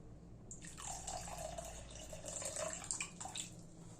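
Water poured from a container into about 150 grams of sour yogurt in a kitchen, a steady close trickle and splash lasting a few seconds, with no talking.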